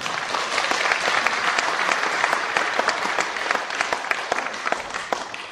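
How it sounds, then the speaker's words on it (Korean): A church congregation at a 40th-anniversary ordination service bursts into sustained applause, with many dense overlapping claps at a steady level throughout, filling the sanctuary with no clear voice above it. "우리 박수로 청해 듣겠습니다"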